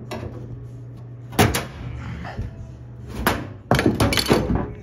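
The front cover panel of a GE stackable washer/dryer is pulled off, giving a few loud plastic-and-metal clunks and rattles separated by quieter handling noise, close up with no talk.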